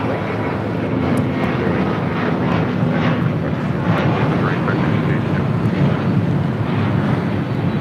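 A Spirit Airlines Airbus A320 jet takes off at LAX with a loud, steady engine roar and rumble, heard from nearby under wind noise and occasional voices.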